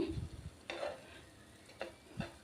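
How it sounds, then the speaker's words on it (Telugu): Bread slices frying in a pan for double ka meetha are turned with a spatula, a faint sizzle marked by a few soft scrapes and taps spaced across the moment. "బ్రెడ్ అంతా కూడా ఇలా తిప్పుకుంటూ ఫ్రై చేసుకుందాం"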